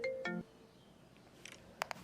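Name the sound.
phone ringtone, brother calling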